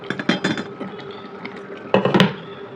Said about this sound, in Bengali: এখন এটা একটু ঢাকা দিয়ে রাখবো।